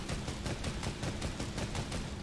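Rapid airplane gunfire in Fortnite plays as a dense, continuous burst of evenly spaced loud shots, about four per second, filling the clip with no voice over it.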